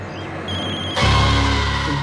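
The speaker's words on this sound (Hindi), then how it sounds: "तुम्हारा फोन बज रहा है।" A telephone rings steadily and loudly, its electronic tone starting partway through and continuing without a break to the end.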